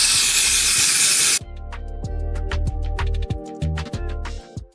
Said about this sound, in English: I'm about to spray this with some even one lace bond